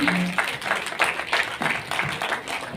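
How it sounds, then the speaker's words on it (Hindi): Audience applause at a sustainability summit awards ceremony during a felicitation, with moderate rhythmic clapping from a modest crowd that sounds somewhat distant. "तालियां रुकनी नहीं चाहिए"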